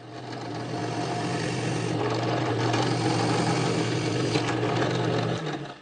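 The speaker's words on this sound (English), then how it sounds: "I'm going to screw these in place before I drill the hole through them" A power screwdriver drives screws into lignum vitae wooden bearing blocks on plywood, making a steady close-up motor whine and grinding hum that lasts several seconds before cutting off, with no talking.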